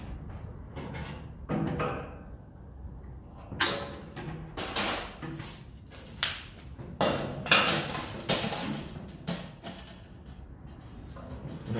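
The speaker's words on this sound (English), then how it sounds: "Pair of tin snips, nice and sharp ones." Sharp tin snips cutting a metal body panel on a GT40 replica build, irregular crunching snips and metallic clanks with pauses between them, close and with no talking.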